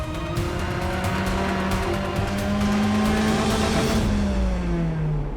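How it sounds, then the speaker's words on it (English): A race car on a track rumbles and whines with rising and falling engine pitch, a steady loud drone with a hint of tire squeal. "you can hear the engine rumbling"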